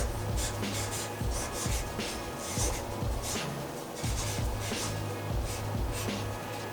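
A Thornton's oil-based paint marker writes on a surface, making close, steady scratchy strokes that repeat in quick rhythmic bursts with brief pauses between them.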